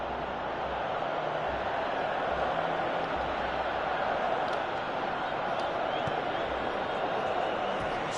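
Steady stadium crowd roar from the PES 2018 football game on PS4, a dense continuous murmur with low rumbling swells and a few faint claps throughout.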